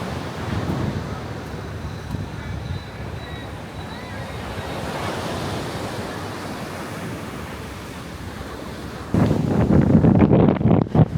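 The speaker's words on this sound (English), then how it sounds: "wind is really strong" Strong wind sweeps across a quiet, empty beach, roaring and buffeting the microphone over the wash of surf, with a louder gusty burst near the end; nobody talks.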